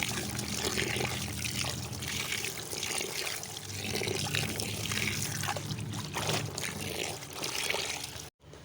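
Water sloshes and splashes as a uniform is scrubbed and swished by hand, continuous and close, with rhythmic wet rubbing, then a brief drop-out near the end.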